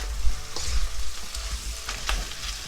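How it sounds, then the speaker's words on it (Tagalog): Two kilos of beef brisket go into a pot with garlic and sizzle steadily, a close, crackling fry with small spits and stirring noises and no voices. "Now let's add our beef. Our 2 kilos beef brisket."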